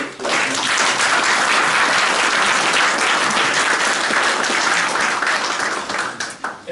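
A conference audience breaks into sustained applause after a talk on GDPR, dense steady clapping from many hands filling the room for several seconds before thinning out near the end.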